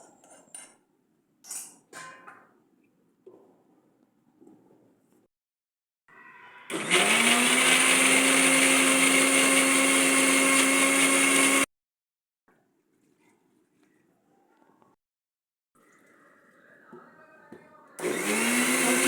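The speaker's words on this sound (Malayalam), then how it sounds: "ഇനി നമുക്ക് ഈ കൂട്ടെല്ലാം ഇട്ട് ശകലം വെള്ളവും കൂടെ ഒഴിച്ച് മിക്സിയിൽ നല്ലപോലെ അടിച്ചെടുക്കാം." Electric mixer grinder blending tomato chutney ingredients with a little water: a loud, steady whirring run of several seconds that stops abruptly, then restarts at the end, after some quiet clatter and brief talk.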